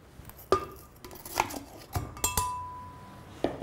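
Yogurt and frozen pineapple cubes dropped into a blender container, a series of sharp clinks and knocks of frozen pieces against hard plastic or glass, spaced irregularly and heard up close in a quiet kitchen.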